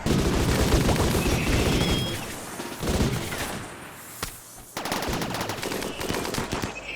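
Rapid automatic gunfire from the video game Rimworld, bursts of dense crackling shots with a brief lull before another burst, under faint background sound.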